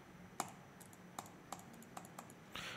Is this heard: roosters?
no